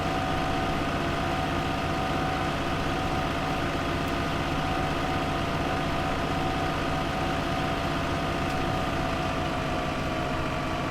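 A farm vehicle engine runs steadily in Farming Simulator 2015. It gives a constant, loud, droning idle with no change in pitch, and no voices are heard.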